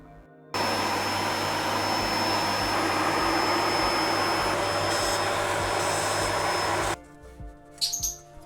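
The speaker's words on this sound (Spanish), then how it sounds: "le vamos a pasar un cepillito con la aspiradora así por encima" A vacuum cleaner with a brush attachment runs steadily at close range for several seconds while cleaning a Diamond GZV4000 power supply, then shuts off abruptly, leaving faint clatter.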